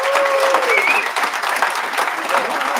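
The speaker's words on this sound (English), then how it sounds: "Can we give them another round of applause?" Dense, steady applause from a large audience at a graduation ceremony, sustained and fairly loud throughout with no pause.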